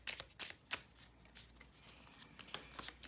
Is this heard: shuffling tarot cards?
yes